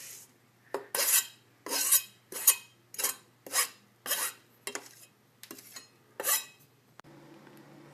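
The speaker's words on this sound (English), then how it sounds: "Then mix everything into a big bowl" Diced tomatoes and minced parsley being mixed in a big bowl for gazpacho salsa: about ten rhythmic scraping, rasping strokes of a utensil against the bowl, close and fairly loud, then a brief quiet tail.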